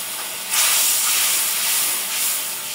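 Spice paste frying in a pan for a Bengali river katla fish curry, a loud, dense hissing sizzle that swells suddenly and holds steady, with no talk.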